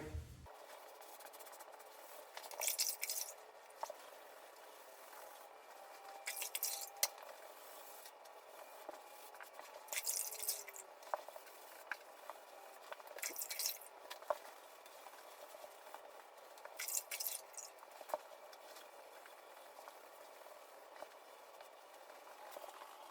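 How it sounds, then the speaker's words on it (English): A wet, wrung-out sponge wipes fresh Mapei Ultracolor Plus FA grout off tile, making repeated soft rubbing swishes in bursts every few seconds, close and fairly quiet, with no talking. "Now the sponge is wet, completely wrung out. Now I start cleaning from where I started grouting."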